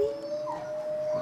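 Wolves of a pack howl at night in a zoo enclosure, a single sustained steady tone carrying from a moderate distance over quiet background, with a faint higher voice briefly joining in.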